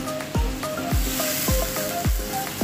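A sweet soy sauce mixture sizzles steadily in a pan while a utensil scrapes through it in regular strokes, roughly twice a second, close and clear with no voices.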